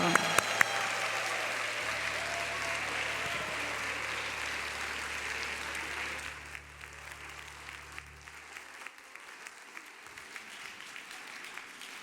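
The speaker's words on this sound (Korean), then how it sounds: "큰 박수로 한번 맞으시죠" Audience at a women's Christmas evangelism church service applauds to welcome a trio of educators about to sing, steady sustained clapping filling the room before fading, with a low hum beneath.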